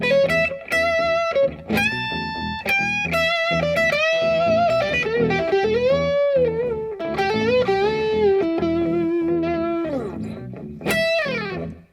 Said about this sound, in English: Turn a little distortion on. Now I've got something to practice.